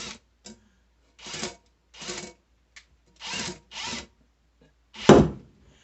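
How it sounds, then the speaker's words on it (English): A cordless drill spinning a rod for barrel polishing whirs in short bursts, about seven separate spins with quiet pauses between, the final burst loudest and trailing off. "what I got here is my cobalt drill"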